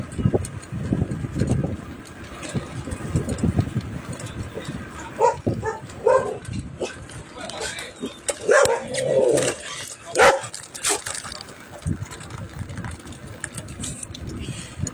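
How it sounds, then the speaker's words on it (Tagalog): Several dogs bark and yip from a mid distance around a fishing area, overlapping in irregular bursts over a low engine-like rumble and background noise. "Maraming aso mga idolo, ang aso,"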